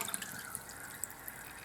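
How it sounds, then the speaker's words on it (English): Air bubbles leaking from a ROHO cushion held underwater, a steady fizzing hiss with small bubbly pops, faint and close. "you can see we've got a jet of bubbles coming out right back here"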